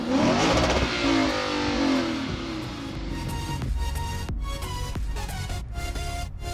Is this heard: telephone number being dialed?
no